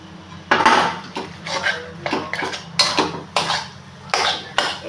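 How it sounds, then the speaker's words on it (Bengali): Mashed chicken mixed into turmeric, chopped garlic and ginger in a bowl: steady, repeated clinks and scrapes of a spoon against the bowl, close and fairly loud. "এবার ম্যাশ করা চিকেনটা দিয়ে দেবো।"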